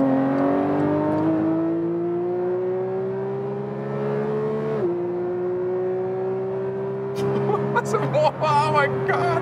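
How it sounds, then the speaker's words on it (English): A Porsche 911 GT3 Touring accelerates hard on a German autobahn, its engine note climbing steadily through the revs with a brief dip at a gear change, then pulling again. A voice talks over the loud, continuous engine in the closing seconds. "Oh, they're getting off, so I can speed it up now again."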